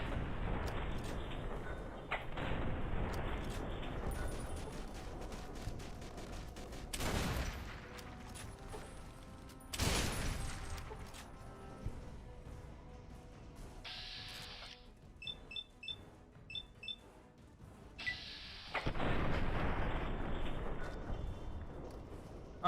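Gunfire in Fallout: New Vegas comes in several sharp, loud bursts spread out over a steady background, with short beeping and clicking game sounds between the shots.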